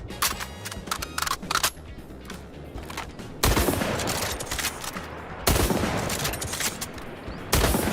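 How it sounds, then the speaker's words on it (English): Lever-action sniper rifle in the Highguard video game firing several sharp, loud shots in bursts, with quieter clicking and mechanical sounds between the blasts. "Okay, sniper rifle."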